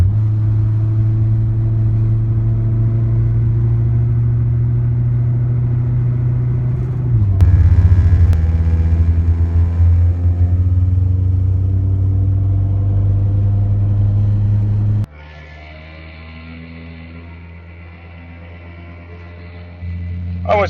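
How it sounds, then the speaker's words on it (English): Car engine under heavy load with the air conditioning on, its steady low drone rising in pitch as the revs climb partway through, then settling to a lower hum near the end; a voice talks over it. "We're gonna go ahead and rev up the RPMs a little bit here"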